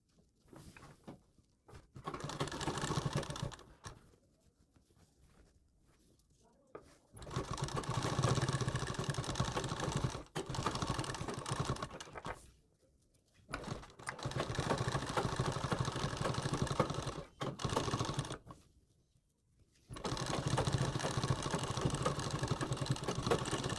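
A sewing machine stitches a sleeve onto a garment in several separate bursts of close mechanical whirring, broken by short quiet pauses.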